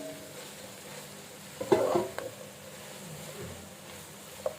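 Chicken for a bakery-style filling drops into a hot pan and fries, giving a short burst of sizzling and scraping near the middle. Quieter frying noise surrounds it, with a small clink at the end.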